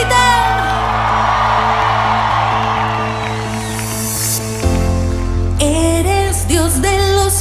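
A church congregation at a Sunday service shouts and whoops together over loud, steady worship music with sustained instruments, then the band shifts into a new section while the crowd's voices continue.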